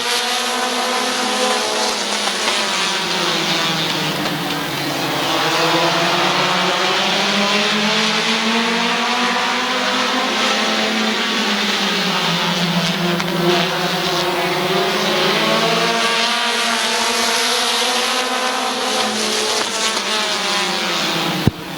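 Race cars in an 8-lap heat at Midvale Speedway make a loud, continuous engine roar. Pitch rises and falls as the cars accelerate down the straights and lift for the turns, heard from close to the track.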